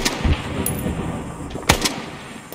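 Booming explosions in the video game Arma, a couple of loud blasts with rumbling tails over a busy, noisy background of distant gunfire.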